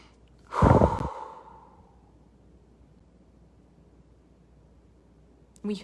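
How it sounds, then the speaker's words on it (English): A single deep breath, close and fairly loud, rushes in with a breathy sigh-like swell and fades slowly into quiet room tone, with a faint breathy sound returning at the very end. "Whenever you fear lack, breathe."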